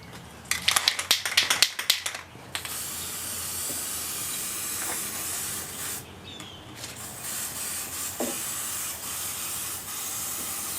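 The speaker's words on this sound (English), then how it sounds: "take some spray glue in this can aerosol made for foam and put these 2 pieces back together" An aerosol can of spray glue made for foam sprays in short bursts, a cluster of close hissing puffs at first, then a steadier, fainter hiss as the can runs low during a spa cover repair.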